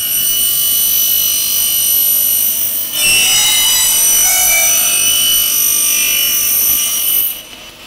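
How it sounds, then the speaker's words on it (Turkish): An SCM 420 saw trims the end of a profile, a loud high-pitched spinning blade whine that deepens into a harsh cutting rasp partway through, then cuts off abruptly at the end. "Önce bir uç kesme işlemi yapıyoruz."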